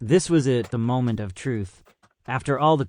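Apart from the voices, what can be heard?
None of the usual background noises is heard.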